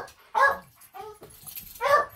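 Several dogs bark excitedly indoors, three sharp, mid-range barks spaced out over a couple of seconds with softer whimpers and yips between them.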